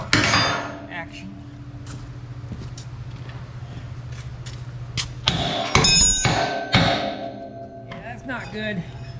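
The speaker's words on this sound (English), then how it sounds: "A little hammer action." Hammer striking metal: scattered sharp taps followed by a cluster of louder ringing clangs, then a few lighter knocks, close by over a low mechanical hum.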